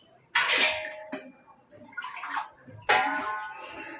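Tamarind extract poured into a pan of fish curry in two splashing bursts, a short gurgle between them and a quieter rustle, heard close up.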